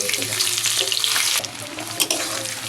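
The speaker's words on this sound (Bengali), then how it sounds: "এই ডিম ভাজা তেলের ভিতরে দিয়ে দেবো তেজপাতা, রসুন আর পেঁয়াজ কুচিও আমি দিয়ে দেবো।" Bay leaf, garlic and chopped onion hit hot oil left from frying eggs, a loud close hiss of frying that briefly dips and then keeps sizzling steadily.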